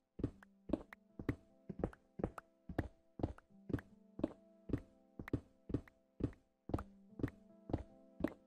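Blocks being dug in Minecraft, a steady run of evenly spaced thuds with a short tonal ring, about two per second, close and alone with no talk.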